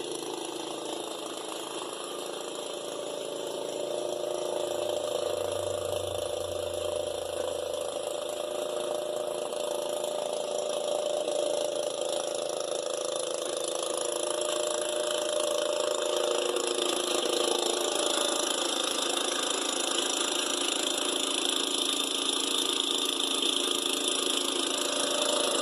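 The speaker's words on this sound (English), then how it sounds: "This is an old wheel horse garden tractor I picked up on a deal" An old Wheel Horse garden tractor engine runs with a steady droning hum, close and constant throughout, with a voice talking faintly under it.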